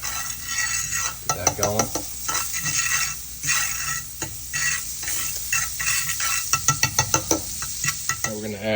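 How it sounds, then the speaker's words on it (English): Butter sizzling in a pan while cooking creamy venison pasta, a steady frying hiss broken by repeated utensil stirs and clinks against the cookware, with a person speaking briefly over it. "So we're just gonna add a little bit of butter to the pan."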